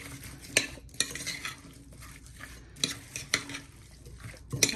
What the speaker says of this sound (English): we can mix this all up and get a nice base ready, get everything mixed.